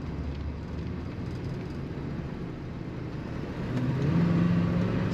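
A 1979 Lincoln Mark V Bill Blass Edition accelerating, a low engine rumble from inside the car that grows louder and rises in pitch toward the end, with no talk.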